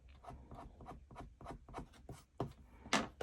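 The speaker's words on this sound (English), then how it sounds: "Let's erase this." An eraser rubbing over paper on a card-making project: a quick series of close, soft scrubbing strokes in a steady back-and-forth rhythm, ending with a couple of stronger swipes.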